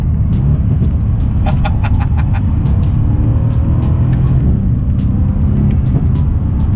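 A Mercedes C63 AMG engine drones loudly and steadily while the car is driven, with a constant low rumble and road noise throughout and a few faint ticks above it.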